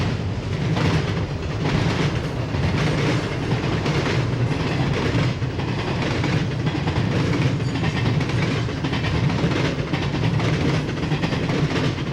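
An eastbound train rolls past on the Chicago line at Berea, a loud, sustained rumble with rhythmic clickety-clack of wheels over rail joints, close and continuous with no voices.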